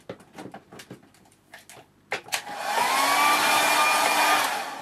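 A hair dryer switches on after a few handling knocks and blows steadily to dry a watercolour painting, a loud close whoosh that fills the second half.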